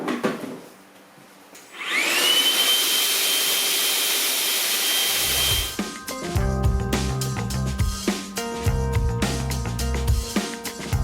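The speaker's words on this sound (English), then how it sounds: "let's get the vacuum." A vacuum cleaner whines up to a steady, loud, high-pitched whir while cleaning a rusty speaker grill on a JBL SRX728S dual-18 subwoofer, then cuts out into sharp clicks and knocks from the grill.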